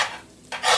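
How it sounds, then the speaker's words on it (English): A metal utensil scrapes fried potatoes in an iron skillet, two short rasping strokes close up over a faint sizzle. "a good thing with iron skillets, you can use metal and scratch it, and it doesn't hurt"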